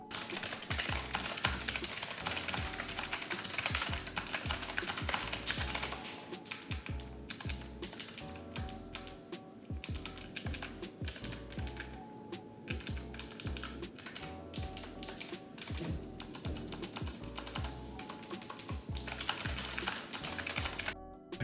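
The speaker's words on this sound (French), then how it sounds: "embarque des interrupteurs GL Clicky, font notamment rappeler les Cherry MX Blue et leurs clics d'activation bien distincts" Fast, continuous typing on a Logitech G915 keyboard with GL Clicky mechanical switches produces dense, sharp, close-up clicks in a steady clatter, with no voices.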